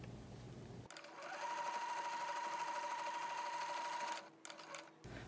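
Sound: sewing machine stitching along fabric edge

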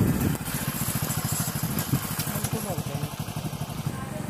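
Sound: motorcycle riding on narrow slippery path

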